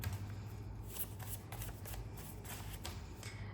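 A deck of playing cards is shuffled over and over, a soft, close riffling and flicking with repeated bursts of crisp card slaps at a quiet level, no voices.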